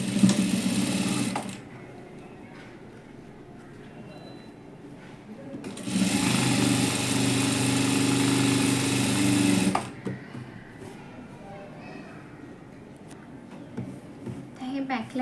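A sewing machine stitches the back of an ari-work blouse fitted with a single presser foot, running in two close, steady whirring bursts, a short one at the start and a longer one midway, with quiet pauses between.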